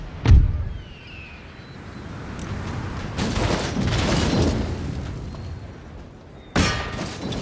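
Massed musket volleys crackle in a gunpowder-era battle within Empire Total War. A sharp boom opens, followed by a rumbling wash of scattered fire and a loud burst near the end.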